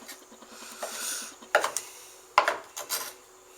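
A knife blade runs through raw steak on a cutting board for tartare, with several close, sharp knocks and scraping strokes in an uneven rhythm.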